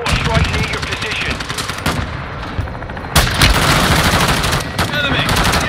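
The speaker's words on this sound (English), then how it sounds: "Hostile mortar strike near your position." Dense, continuous automatic gunfire in Call of Duty: Modern Warfare, with a sharp loud burst and heavier impact about halfway through as a mortar strike lands nearby, battle noise staying loud and busy to the end.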